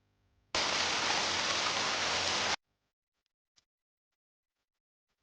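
Steady rain falling, a dense even hiss that starts abruptly, holds for about two seconds and cuts off, followed by near silence with a couple of faint ticks.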